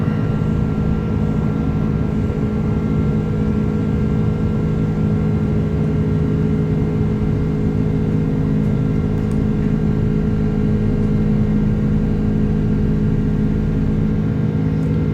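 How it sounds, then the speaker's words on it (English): Rolls-Royce jet engines on an Airbus A330 drone steadily as the jet climbs after takeoff from Manchester, a continuous loud hum with constant tones and no pauses, heard from inside with nobody talking. "Gotta love those sounds of the Rolls-Royce engines, huh?"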